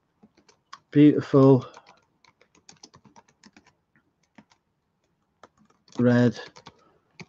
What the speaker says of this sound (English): I'm going to have to type it out by hand.